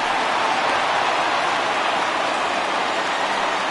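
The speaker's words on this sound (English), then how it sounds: "we've mentioned the conditions aren't ideal with the rain coming down" Rain falls during a broadcast of a 2020 MLB baseball video game between the Indians and the Yankees, a steady, dense, loud hiss that runs on evenly with no voices over it.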